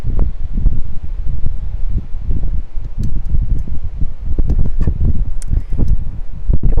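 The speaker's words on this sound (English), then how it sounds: "now it got really windy" Strong wind blows outdoors, rough low buffeting gusts battering the microphone loudly and continuously with no voices.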